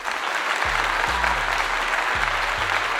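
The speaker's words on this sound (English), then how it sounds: "You got to give him a clap for that." Steady, dense applause from a crowd fills the whole stretch, a broad even wash of clapping with low, deep tones pulsing beneath it.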